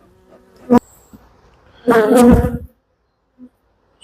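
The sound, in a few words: honey bees buzzing around hive frames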